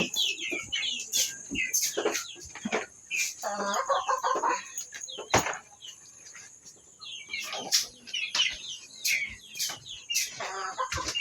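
Chickens clucking and calling on and off over a busy outdoor background, with short bursts of chirping and rustling throughout.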